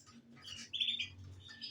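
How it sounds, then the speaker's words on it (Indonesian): A Yorkshire canary sings close by in short bright chirps and a brief high trill over faint low background hum. "Burung gacor semua yang saya video ini"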